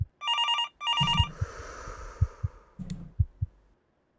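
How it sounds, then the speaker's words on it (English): Heartbeat effect in the video game Split Mind: steady low double thumps follow a ringing telephone tone at the start, moderately loud and alone. "Why is my heart beating?"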